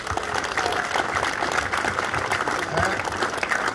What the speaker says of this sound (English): I'd like to give him a big round of applause.